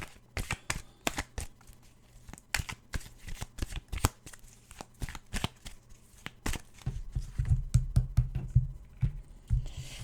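Tarot cards shuffled by hand in a riffling, irregular series of crisp flicks and taps, close and clear, growing denser and heavier toward the end with soft thumps as the deck is squared.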